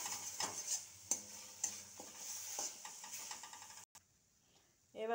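Spices and salt stir-frying in a pan, a close sizzle broken by sharp spatula scrapes and taps, briefly dropping almost silent before the stirring resumes.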